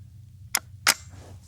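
Two short, sharp cracks from a Bergara BXR Carbon rimfire rifle fired outdoors across grass. They come about a third of a second apart against a quiet low hum, and the second crack is louder and rings slightly.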